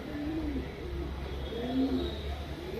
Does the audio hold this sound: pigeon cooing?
yes